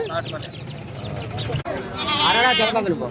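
A goat bleats at the Kothavalasa weekly livestock market, one wavering cry rising over steady crowd chatter and nearby talk, with chickens also around.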